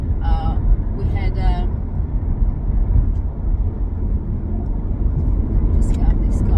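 Interior of a moving car, a constant low road and engine rumble throughout, with a person speaking briefly over it near the start and end.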